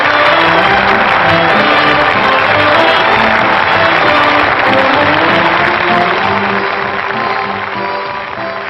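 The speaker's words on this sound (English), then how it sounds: "That noise is applause, isn't it?" Applause and crowd noise in a 1939 film scene, a loud dense wash of clapping mixed with cheering and music, sustained throughout and easing off at the end.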